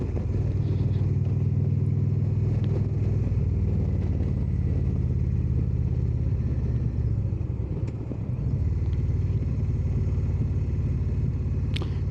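Motorcycle riding through congested traffic, its steady low engine rumble droning continuously and close for the whole stretch, with faint surrounding road noise and a brief dip near the middle.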